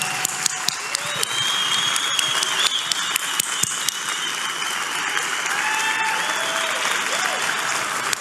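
Warm audience applause fills a gathering hall, a dense continuous wash of clapping from many people with scattered sharper claps and some faint background voices and whistles.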